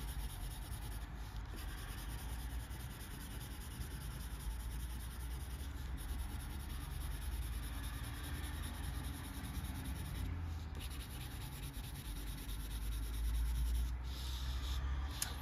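Pencil colouring on paper, a continuous soft scratchy rubbing with steady back-and-forth strokes, close and quiet, with no talking.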